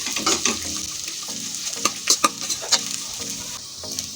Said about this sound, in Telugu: డ్రై ఖర్జూర్ ఇవి కొంచెం రోస్ట్ చేసుకోవాలి గీలోనే లైట్ బ్రౌన్ వచ్చే వరకు రోస్ట్ చేయాలి